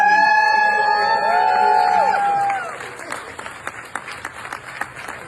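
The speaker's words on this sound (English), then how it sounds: "Raise your hands and make some noise if you want." A crowd at an Ethiopian community event claps and cheers, with a shrill whistle-like tone at first, then the applause thins into scattered claps.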